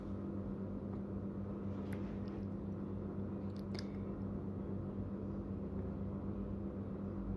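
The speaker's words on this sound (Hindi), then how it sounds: "अब हमने बिल्कुल बुकरम के साथ साथ अपनी सिलाई को चलाना है" A sewing machine runs steadily, stitching a kurti neckline right along the edge of the buckram. Its quiet, continuous motor hum holds for several seconds with no talking.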